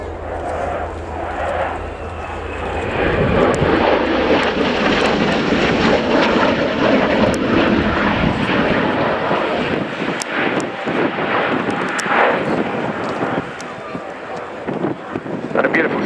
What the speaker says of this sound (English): a beautiful slow roll there, using all three axes of the flight control system to keep that aircraft level